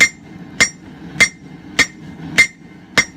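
A hand hammer strikes hot steel on an anvil while forging a 2.5 pound cross peen hammer head, six sharp ringing blows evenly spaced about every 0.6 seconds, close and loud, with no talk.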